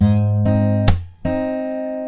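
Acoustic guitar strumming a full F bar chord, three close chord attacks ringing in turn, with a sharp percussive slap in the middle before the chord rings on, loud and close.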